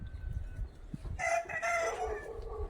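Chickens on a farm that also keeps ostriches and large birds give a short burst of clucking calls, faint and brief against quiet low rumbling background noise.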